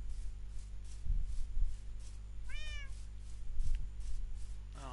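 Cats meowing in the Minecraft video game, a single clear meow midway over a steady low hum with soft thumps and shuffling around it.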